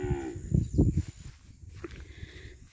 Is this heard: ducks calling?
no